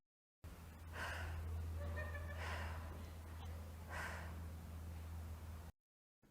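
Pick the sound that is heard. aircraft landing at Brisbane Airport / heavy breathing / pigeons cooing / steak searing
heavy breathing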